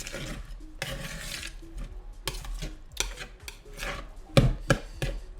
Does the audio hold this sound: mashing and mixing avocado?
yes